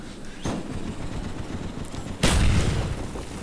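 A grenade blast and gunfire on the Nuketown map in Call of Duty Black Ops, with a muffled boom near half a second and a louder, sharper explosion about two seconds later over steady gameplay noise.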